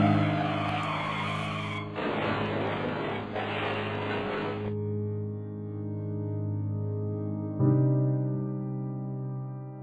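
Staged car race in a road safety film: loud, continuous engine roar with tire skidding noise, cutting abruptly between segments and settling into a steady drone, with no voices.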